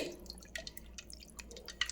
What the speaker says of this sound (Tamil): இப்போ இதை வடிகட்டி வச்சு தண்ணி வடியட்டும்.